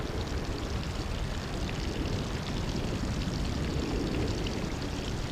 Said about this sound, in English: The rain is funneled down the leaves and branches, then cascades down the trunk